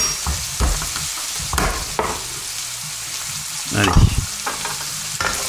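Sliced button mushrooms and crushed garlic fry in a pan for veal tendrons with asparagus, a loud close sizzle broken by clanks and scrapes of stirring, with a brief spoken word over it.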